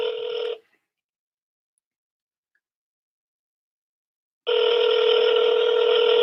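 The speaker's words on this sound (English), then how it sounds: "For some reason it hung up. Let me call back." A telephone handset makes a steady electronic tone at the start, cuts to silence for about four seconds, then the same loud tone returns and holds to the end, while a call is being redialed after dropping.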